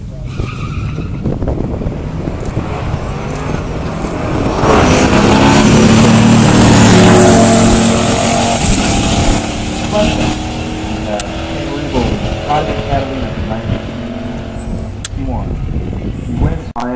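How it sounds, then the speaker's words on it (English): Stock Pontiac GTO muscle car at a pure stock drag race, engine roar and tire noise building to a loud, sustained peak midway, with a crowd and announcer talking throughout. "Pontiac GTO. This is the quintessential GTO for a lot of people."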